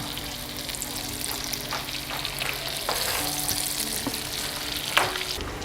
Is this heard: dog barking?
no